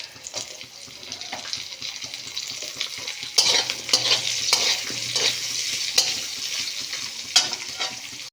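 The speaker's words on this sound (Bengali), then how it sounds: "এবারে দেব ডুমো করে কাটা পেঁয়াজ।" Diced onions fry in oil with garlic, ginger and curry leaves, a steady hiss that swells midway as a spatula scrapes and stirs through the pan in repeated strokes, up close.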